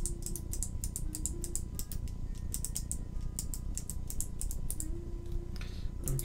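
A clicky mechanical keyboard on a 60% board with GMK Wavez keycaps is typed on in quick irregular bursts of sharp clicks with short pauses, close and fairly quiet, with no voices.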